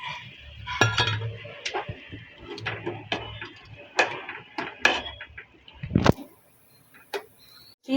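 A spoon scrapes and clinks against a metal pot while crushed peanuts are stirred into a whole-garlic curry, irregular sharp knocks and rattles, fairly close, with a louder clatter near the end.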